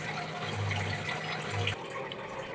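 Steady running water from a tap splashes and swishes in a bowl as fenugreek seeds are washed, a continuous close wash with a faint hum underneath.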